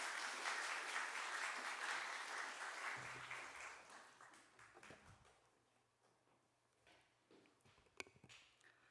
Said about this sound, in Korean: 환영의 의미로 박수로 맞이하도록 하겠습니다.